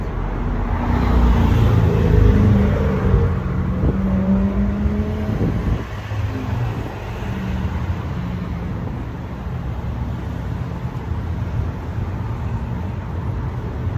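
Sports cars such as Corvettes, Ferraris and Porsches cruise a Delray Beach street at night, with engine rumble passing close and loud early on, then fading into a steadier background traffic hum.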